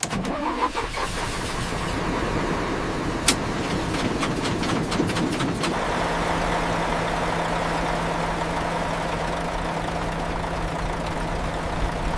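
The engine of a 1951 EMD GP7 diesel-electric locomotive turns over and catches, then settles into a loud, steady diesel idle with a low constant hum that carries on alone.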